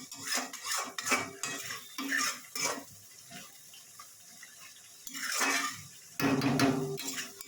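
Tangra fish curry with garam masala is stirred in a pan, bursts of spoon-scraping and metal clinks separated by quieter pauses, ending in a louder sizzling stir.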